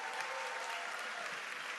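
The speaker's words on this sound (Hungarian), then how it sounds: "Egy nagy tapsot kérek." Audience applause at a Jeunesse business event in Hungary, a steady dense wash of many hands clapping throughout.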